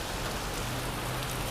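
Rain falls in a steady, even hiss, faint and continuous over a brief moment with no distinct drops or voices.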